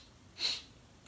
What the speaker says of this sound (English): So it's 4 sniffs in.